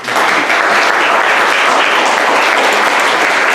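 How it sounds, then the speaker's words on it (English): A crowd applauds steadily and loudly throughout, a dense wash of many hands clapping at once. "Let's give some claps for."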